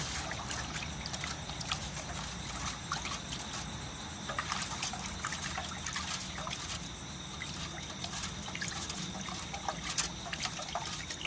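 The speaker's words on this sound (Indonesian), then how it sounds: "Kita aduk dulu." A liquid organic fertilizer mixture being stirred, giving a continuous close-up sloshing, trickling water sound under a steady hiss, with a voice faintly in the background.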